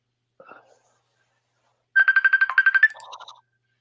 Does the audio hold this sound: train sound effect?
no